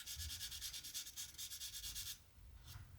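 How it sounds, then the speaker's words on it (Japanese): Light hand-sanding of cured seam glue on a Tamiya 1/20 Lotus 107 Ford Formula 1 scale model, close and fairly loud, with quick rhythmic back-and-forth rubbing strokes for about two seconds, then quiet with one last brief stroke. "適当に削ってみましょう。 力を入れずとも軽く擦るだけ。"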